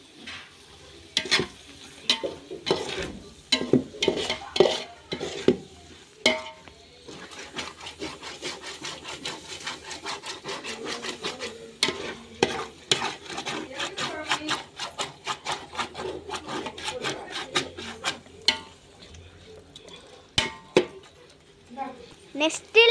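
Chicken biryani mixture being stirred and fried in a pot, with repeated scraping and knocking strokes of a spoon over a faint sizzle, and a voice speaking intermittently in between.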